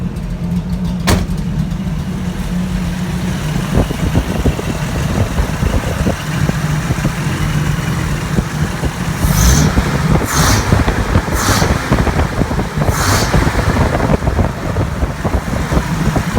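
A 1984 Toyota Land Cruiser FJ60 engine with a 38 mm carburetor idles loudly and steadily just below 1,000 RPM nearby, a rough continuous rumble with no talking over it.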